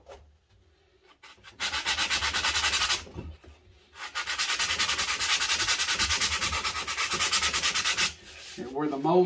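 Sandpaper smoothing a carved bass guitar body, evening out mold seams: two long bursts of steady, close, loud abrasive rubbing separated by a short pause, with a quieter rustle at the start and a brief bit of handling at the end.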